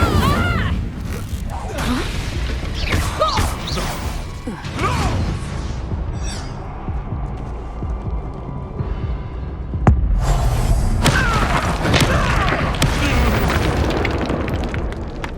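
Fire spell effects from Hogwarts Legacy gameplay: a dense run of loud booms, bursts and creaking mechanical clatter, with a sharp blast near the middle and sustained rumbling chaos, no speech.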